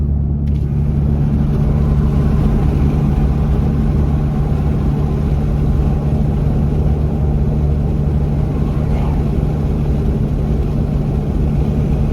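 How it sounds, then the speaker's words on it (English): Steady road noise from inside a moving Toyota Tacoma with a roof rack fitted: low engine exhaust drone with a hum, rushing wind and tire roar, continuous and unchanging, with no whistling. "I don't hear anything except for wind, exhaust, and some tire noise"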